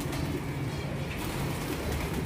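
Pigeons coo softly and steadily beside a pigeon loft. The cooing sits in a dense, noisy background with no talk.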